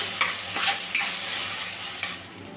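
Finely chopped tomato and onion fry in a pan until soft, giving a steady close sizzle with a few sharp scrapes from stirring and no talk.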